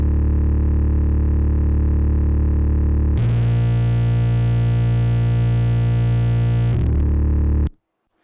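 Heavily distorted, buzzy sustained tone with a dense harmonic drone from a signal slammed by an L1 limiter before distortion, shifting character midway before cutting off abruptly at the end.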